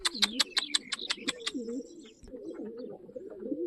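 Racing pigeons cooing in low, repeated rolling calls, close by, with a quick burst of sharp chirps at the start.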